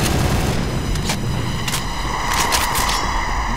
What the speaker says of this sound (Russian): Бомба была.